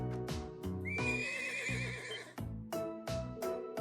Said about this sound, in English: this horse recently arrived from the North Highlands